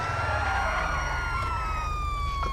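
A police car siren in the video game GTA 5 wails with a steady rising and falling tone under a constant engine drone, loud and close throughout.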